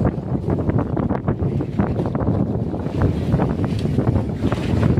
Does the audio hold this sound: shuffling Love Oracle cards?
no